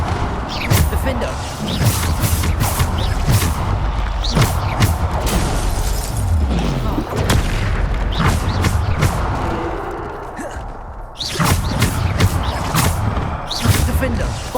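Bombarda spell explosions in Hogwarts Legacy combat, repeated loud blasts and crashing impacts through a dense, continuous battle soundscape, with brief quieter gaps between flurries.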